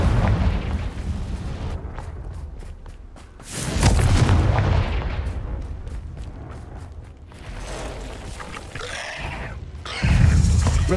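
Confringo blasting spells fired in Hogwarts Legacy, heavy booming explosions bursting one after another with rumbling tails and crackling debris, loud and close.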